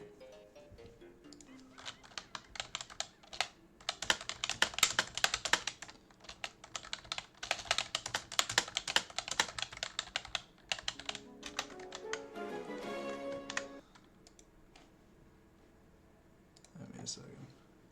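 Fast, dense clacking of a Malacca Turbo keyboard comes in bursts of rapid keystrokes, loud and close, tapering into scattered clicks and then near silence.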